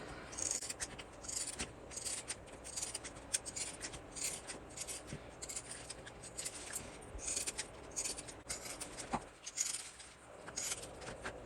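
Scissors snip little V-shaped notches into the seam allowance of sewn fabric curves on a handmade bag, a quiet run of repeated close crisp cuts and rustling cloth with no talk.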